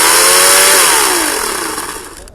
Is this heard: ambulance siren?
no